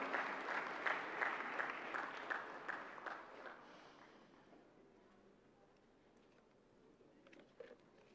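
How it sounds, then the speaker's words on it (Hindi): An audience at a health conference's closing session applauds loudly to welcome a minister. The clapping is dense and steady for about four seconds, then fades into quiet room tone. "एक बार जोरदार तालियों के साथ पुनः स्वागत करते हैं माननीय मंत्री महोदय जी का"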